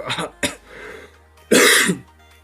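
A person nearby clears their throat a couple of times, then gives one loud, harsh cough.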